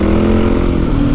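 A Yamaha WR450F motorcycle with a new exhaust baffle revs loudly up close, a thick, throbbing exhaust note held steady for a moment.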